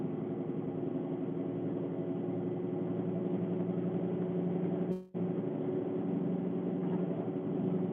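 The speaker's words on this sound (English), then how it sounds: "I'm sorry, my car is so loud. I don't know why it's loud like that." Loud car engine idling close by, a steady low rumble with a constant tonal hum that runs unbroken for the whole stretch, with only a brief dropout near the middle.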